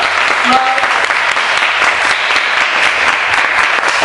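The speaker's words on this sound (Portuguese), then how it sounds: "Vamos bater uma linda salva de palmas para o Senhor." A church congregation gives a loud, dense round of applause, many hands clapping steadily and evenly throughout.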